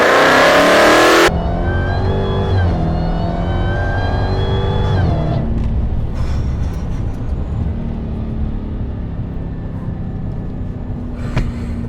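Hellcat car with an upgraded supercharger, close to 1,000 horsepower, on Mickey Thompson tires: a loud engine roar opens, then rising rev tones sweep upward through the gears before settling into a steadier drone.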